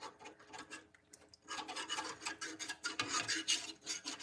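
A whisk scrapes and stirs bagel dough mixture in a bowl, rapid rasping strokes that pause briefly and then resume more vigorously, close up with no talking.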